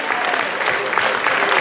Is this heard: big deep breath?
no